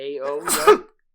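A single violent sneeze bursts out loud and close, a short voiced intake followed by an explosive noisy release that ends in under a second.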